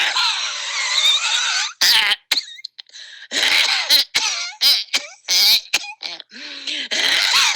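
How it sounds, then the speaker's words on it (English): Repeated harsh coughing fits, loud and close, with short throat-clearing bursts and brief pauses between the rough, raspy coughs. "the person that keeps coughing nonstop"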